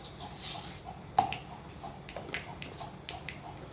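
Mustard seeds splutter in hot coconut oil, giving a few faint, scattered pops and crackles over a quiet kitchen background.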